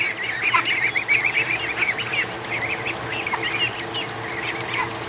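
Muscovy ducks call repeatedly from inside their pen after a rainy night, a steady chorus of raspy, hissy honks and chatter close by with no talking.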